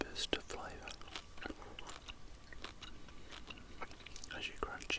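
Close, intimate chewing of a piece of gum, with soft wet smacks and quiet crunches repeating in an irregular rhythm against a hushed background.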